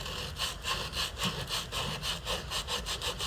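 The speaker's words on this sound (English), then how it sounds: "this is 220 grit sandpaper." A 220 grit sandpaper block rubs back and forth along a knife handle in quick, even strokes, close and fairly quiet, about a dozen rasping passes in a steady rhythm.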